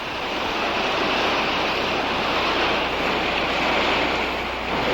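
Ocean surf washes in steadily as the tide rises, a loud, continuous roar of breaking waves mixed with wind noise and no voices.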